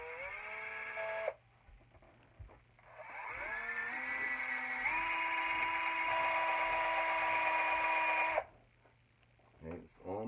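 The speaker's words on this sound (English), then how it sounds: "all you want to do is drill another little hole" A small power drill whines while drilling a countersink hole in a wooden handle, revving up and holding a steady high pitch for several seconds before cutting off abruptly.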